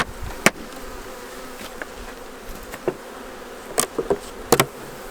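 Honeybees buzz around an open beehive in a queenless Kentucky colony, a soft continuous hum with several sharp close passes and clicks as bees fly near, no talking.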